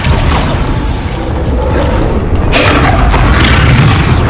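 Confringo fire spell blasts in the Hogwarts Legacy video game, a loud, dense booming roar with mechanical crackle, a fresh burst hitting at about the middle and the noise staying heavy throughout.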